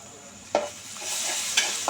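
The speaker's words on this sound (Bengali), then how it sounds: "এবার আদা রসুন বাটাটাকে খুব সুন্দর করে মিশিয়ে নেব এবং ভেজে নেব" Ginger garlic paste fries in a pan with onions for chicken biryani, a soft sizzle broken by a few sharp scrapes of a spoon stirring against the metal, close and without speech.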